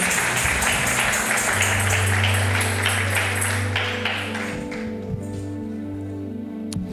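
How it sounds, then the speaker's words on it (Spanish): Congregation clapping during a church service led by a pastor, broad steady applause mixed with organ or keyboard tones, fading as the music sustains toward the end. "Give God a round of applause."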